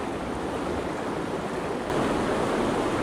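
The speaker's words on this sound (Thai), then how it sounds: "น้ำมันแรงไปว่ะ" Strong, steady rush of river water at a fly-fishing spot, a continuous broadband roar that swells slightly louder partway through, with no voices.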